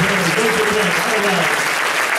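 An audience at a tavern hypnosis show applauds volunteers acting as piano players, a loud, sustained burst of clapping with a murmur of voices mixed in.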